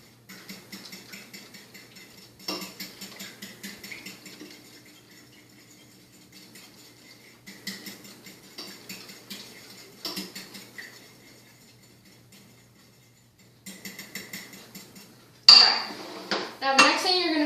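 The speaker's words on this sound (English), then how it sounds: "And whisk this so that you can get some air into it." A whisk beats pudding mixture in a bowl in repeated bursts of fast, rhythmic clinking and rattling against the sides, with short pauses between rounds, ending in a louder knock and rustle.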